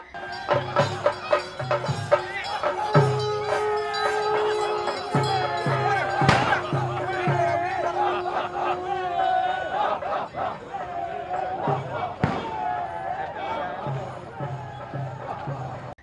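Temple festival procession with a Theyyam arrival at a Kerala shrine, drums beating in repeated rhythmic bursts amid a busy crowd, bell and horn-like tones ringing through, and people talking throughout.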